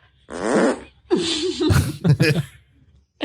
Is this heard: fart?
yes